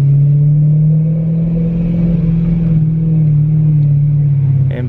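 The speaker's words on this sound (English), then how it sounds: "Superior legendary downshifts." A BMW E92 M3 engine revs loudly and close up, a steady sustained drone with a slight pitch rise and fall, no talking.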